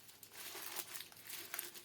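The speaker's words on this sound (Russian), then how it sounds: "Теперь сверху засыпаю снова шелухой." Dry onion skins are sprinkled by hand over brisket in a pot, giving soft close crinkling and rustling for a couple of seconds, faint and alone.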